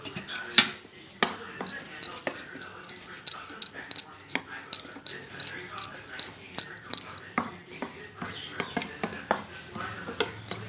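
Repeated scraping and tapping of a spoon or spatula in a small bowl while mixing a thick homemade face pack with rice flour, close and rhythmic, with soft clicks at a steady pace.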